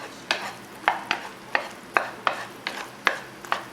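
Walnuts are sautéed in a pan, producing a soft background sizzle broken by about nine regular scraping stir strokes, close and moderately loud, with no voices.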